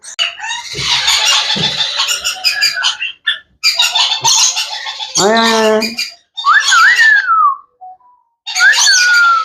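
Rainbow lorikeet chicks give loud, harsh raspy calls in repeated bursts close by, broken by short pauses, with one sliding whistled cry and a few squawks.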